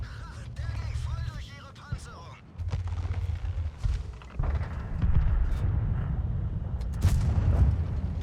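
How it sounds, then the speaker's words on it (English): Tank cannon fire and heavy shell impacts in the World of Tanks video game, deep booms and rumbling blasts under a player's voice talking over the action, with sharper crack-like hits scattered throughout. "You hear the gunfire and then it's like boom, and then you hear the pen."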